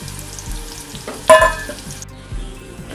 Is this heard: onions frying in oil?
yes